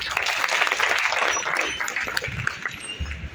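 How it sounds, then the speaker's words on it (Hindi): An indoor audience at a book discussion event at a press club in Jaipur claps steadily, a dense, fairly close wash of applause lasting a few seconds and thinning slightly toward the end. "जोरदार तालियां हो जाए एक बार फिर"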